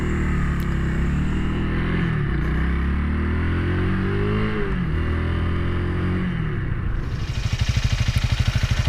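A Honda Rebel 300 motorcycle accelerates up through the gears, its engine note rising, dropping at each shift and climbing again before settling into a rhythmic, pulsing lope near the end, close and clear with no talking.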